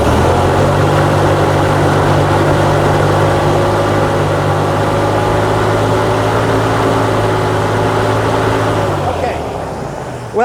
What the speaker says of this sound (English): we're going to increase the throttle a bit here